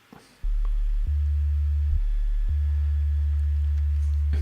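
Pure sine-wave sub bass from a synth in Ableton, a loud, steady low tone sustained in separate held notes with brief gaps between them, alone with no talking.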